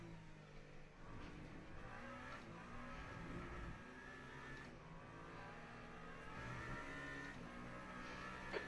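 Sim racing engine noise from Le Mans Ultimate at Imola, a continuous loud race-car drone with shifting revs and occasional surges as a rival car runs alongside, with no talk.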